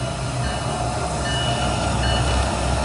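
A train moves in a simulator game, a loud steady rumbling roll with a constant rushing drone of wheels and carriage noise throughout.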